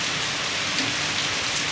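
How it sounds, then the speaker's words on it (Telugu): Heavy rain pours steadily over residential quarters in a dense, unbroken hiss of drops on surfaces, loud and close, with no voices. "అయినా కూడా వర్షం చూసారు ఎలా పడుతుందో."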